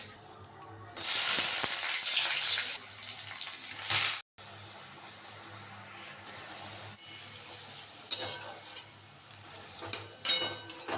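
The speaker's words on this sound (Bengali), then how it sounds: "এদিকে একটু কালো জিরে শুকনো লঙ্কা ফোড়ন দিলাম" Nigella seeds and dried red chilli crackle as they hit hot oil, a broad sizzle that swells sharply, breaks off briefly, then returns quieter with scattered pops and faint stirring.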